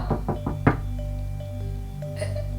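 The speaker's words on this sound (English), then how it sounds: "You can't be knocking on my door." Knuckles knock on a door in a quick series of four sharp raps, the last one loudest, followed by a low steady hum and faint tonal background sounds, with no voices.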